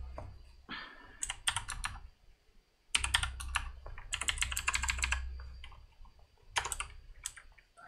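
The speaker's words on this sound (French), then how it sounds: "il va y avoir des bruits de clavier" Close computer keyboard typing in fast bursts of clicky keystrokes, broken by short pauses, over a low steady hum.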